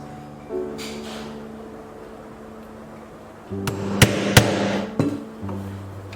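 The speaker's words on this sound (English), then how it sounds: "this time instead of stitching it, I'll try using rivets" Rivets hammered into the handle of a handmade leather laptop bag: two sharp, close metallic hammer strikes, then a third lighter tap, over a steady low hum.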